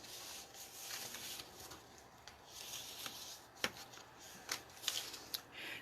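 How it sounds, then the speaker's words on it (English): Bone folder burnished firmly across paper, giving quiet dry rubbing and scraping strokes with a few sharper clicks and taps, close and faint, with no voices. "our bone folder, start doing some burnishing"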